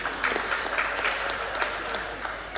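An audience applauds at a panel event on employee development, a dense, steady patter of clapping from a roomful of people that carries on evenly for a few seconds without talk.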